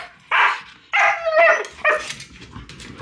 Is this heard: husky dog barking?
yes